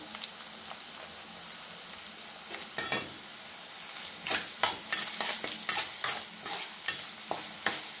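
Toor dal with drumstick leaves fries in a pan with a soft, steady sizzle, while a spoon stirs it in a run of quick scraping strokes that grow busier toward the end.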